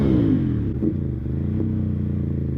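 Ducati Monster motorcycle engine idling with a throaty, uneven rumble and an exhaust pop in winter; the loud, close burble carries a brief crackle near the one-second mark.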